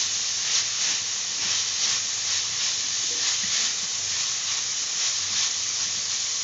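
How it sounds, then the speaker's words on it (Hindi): Minced keema for samosa filling fries in a pan while being stirred, giving a steady, close, loud sizzling hiss that runs unbroken throughout with only slight swells and no voices. "तो भूनते टाइम सलसल चलाते रहना है।"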